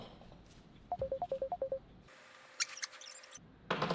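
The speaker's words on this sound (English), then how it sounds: "getting a phone call" A phone call coming in: a rapid run of short electronic tones, then a steady ringing tone with chirps over quiet room noise, ending in a louder burst.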